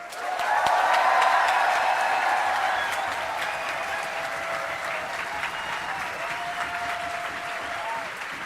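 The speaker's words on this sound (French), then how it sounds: "Donc je vous demande déjà de les applaudir très fort." An audience at a political rally against war and the far right breaks into loud, sustained applause. The clapping peaks early and then holds steady, thick and crowd-wide, for the whole stretch.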